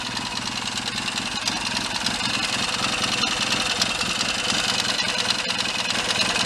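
A rebuilt Triton motorcycle engine runs steadily at idle, a continuous, fairly loud, even mechanical rumble with no breaks, heard up close.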